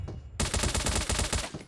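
Rapid automatic gunfire in Call of Duty Mobile, starting abruptly after a brief quiet moment and running as a dense, loud burst of shots for over a second.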